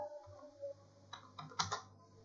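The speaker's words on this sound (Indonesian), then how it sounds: "Wah, tantangan sekali mengetik di sini." Computer keyboard typing, a quiet run of several quick, close clicks grouped in the second half after a near-silent stretch.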